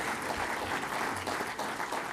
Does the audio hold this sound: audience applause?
yes